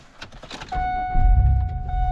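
A car engine starts on a cold morning with someone sleeping inside the vehicle, cranking briefly and then settling into a steady, close idle with a sustained whine above the low rumble.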